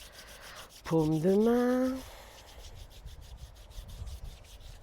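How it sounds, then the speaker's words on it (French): Hands rub firmly down along the inside of an arm during a self-massage, a soft, close swishing friction. A voice speaks briefly before the rubbing continues alone. "je frotte en descendant par l'intérieur"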